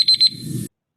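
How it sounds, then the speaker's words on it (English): A timer alarm goes off in a quick burst of sharp electronic beeps, loud and close, then cuts off abruptly into silence. "I will set a little timer so you know how long you have to view"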